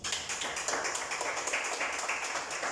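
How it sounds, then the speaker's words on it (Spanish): A church congregation claps during a sermon, a rhythmic, moderately loud patter of many hands sustained over a few seconds without speech. "Ni un aplauso para el Señor."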